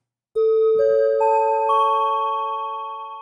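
Four struck bell-like tones from a synthesized singing bowl sound one after another, each ringing on with a pure sustained pitch, stacking into a shimmering, slowly fading resonant chord.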